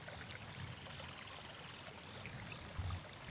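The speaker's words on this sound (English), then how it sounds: "That gentle, continuous conversation that water has with itself and everything it passes over." Gently flowing stream water, a steady soft wash and trickle with no breaks, faint and continuous from start to finish.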